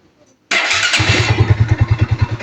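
Bajaj NS150 motorcycle engine, just overhauled, starting abruptly after silence, settling into a loud, close, rhythmic idle with even low thumps.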